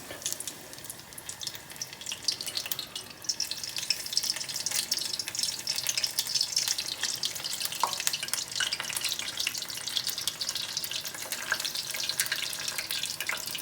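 Squash blossoms in tempura batter frying in hot oil, giving a dense, crackling sizzle that holds steady and fairly loud throughout with no one talking.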